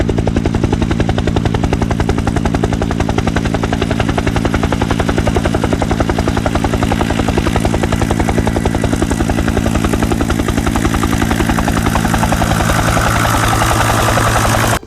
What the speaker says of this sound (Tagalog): karon ang helicopter mulupad na